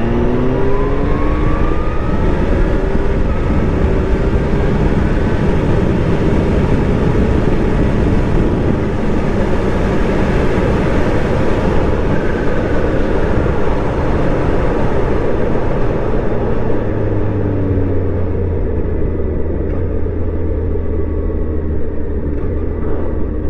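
A truck rumbles past on a road, its engine droning steadily and loudly with a low drawn-out roar, no voices present.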